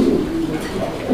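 A pigeon at a fancy-pigeon market gives a low, throaty coo, close and fairly loud, heard alone over about a second.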